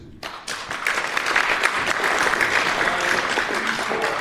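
Loud audience applause at a Bristol city council meeting, rising quickly from a brief lull and continuing as a dense, steady wash of clapping.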